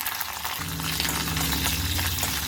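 Curry leaves and asafoetida fry in hot tempering oil for tamarind rice, giving a steady close sizzle with a faint low hum beneath it and no voices.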